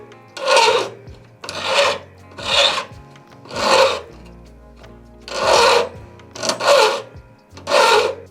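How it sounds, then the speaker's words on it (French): A hand file rasps along the edges of cut brass heart-shaped earring blanks in seven distinct strokes, each a loud, close scraping burst separated by short pauses, with no talking. "Donc là ensuite je viens rattraper mes bords à la lime."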